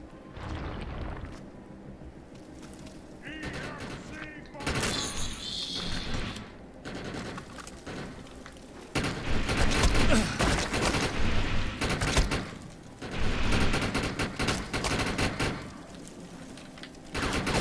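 Loud bursts of automatic gunfire from another player in the video game Defiance, rapid volleys coming in waves with brief lulls between them, close and dominant.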